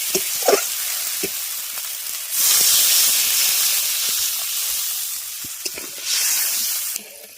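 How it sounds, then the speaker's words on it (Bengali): Water poured into a pan of radish and mustard spice paste cooking in oil, setting off a sudden loud hissing sizzle that swells, eases, then flares again before cutting off, with a few clinks beforehand. "এরপর আমি এর মধ্যে জল দিয়ে দিচ্ছি"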